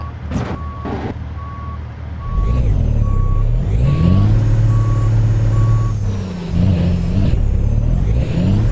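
Repeated reversing beeps from a truck backing into a trailer in American Truck Simulator, a steady evenly spaced alarm over loud, rumbling engine noise that swells midway.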